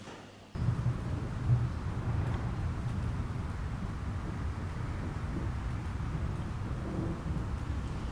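A dark ambient atmosphere layer from a music track swells in abruptly after a brief pause, then holds as a low, rumbling, storm-like wash of noise at a steady, moderate level.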